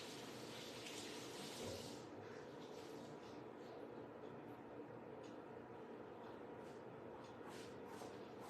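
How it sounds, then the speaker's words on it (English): Water runs from a tap while a chamois cloth is rinsed, a continuous broadband rush that stays steady and fairly close, with no speech. "I'm gonna get my chamois and I'm gonna go rinse it real quick"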